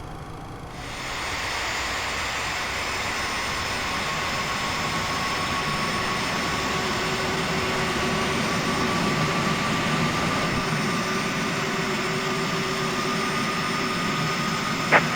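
A Boeing 737 jet engine spools up in X-Plane 11, a loud steady roar with a rising whine building gradually and holding strong, with no one talking.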